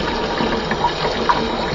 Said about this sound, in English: I'm using some hot water.